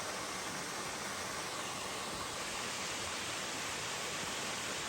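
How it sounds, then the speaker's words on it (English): Lower Middle Creek Falls, a large waterfall over rocks above deep water, pours in a constant broadband roar, steady and fairly distant with no break. "I think this is Lower Middle Creek Falls"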